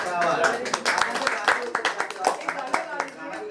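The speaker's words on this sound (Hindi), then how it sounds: "उन सब की मेहनत के लिए हम तालियां तो बजा सकते हैं" Indoor clapping from an audience at a movie trailer launch for Andaaz 2 arrives as a loose burst of distinct, close hand claps with an uneven rhythm, with voices mixed in beneath.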